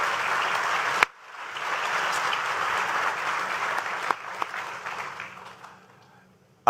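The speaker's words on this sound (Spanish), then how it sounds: "Me gasto unos segunditos en pedir un fuerte aplauso para Amalia Pando" An audience at a forum with presidential candidates gives a strong round of applause for journalist Amalia Pando, which swells after a sharp clap, holds steady, then thins to scattered claps and fades out.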